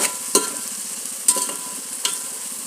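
Boiled, peeled potato pieces fry and sizzle in a pan, with a steady sizzle broken by three sharp scraping stirs, close and fairly loud, no voices.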